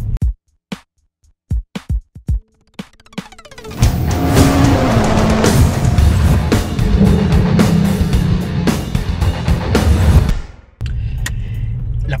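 A 2022 Subaru WRX starts with a few sharp clicks and knocks, then its engine roars loudly and steadily under acceleration for several seconds before cutting off abruptly into a lower idle.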